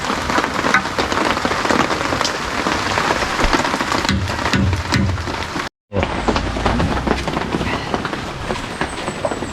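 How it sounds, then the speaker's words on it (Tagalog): Steady rain patters hard on a surface nearby, a dense continuous hiss with a brief drop-out near the middle before it resumes. "Ulan talaga."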